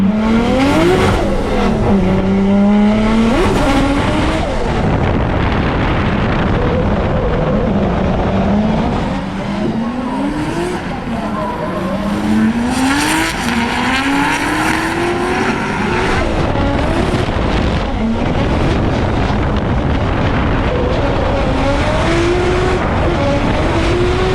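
Australian muscle cars, an AU Falcon and a VN Commodore, rev hard at a motorsport competition: loud, continuous engine roar with repeated rising and falling pitch sweeps as the throttle is worked on and off.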